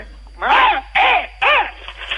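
A crow gives three loud, harsh caws in an even rhythm, each drawn out and close, with brief pauses between them.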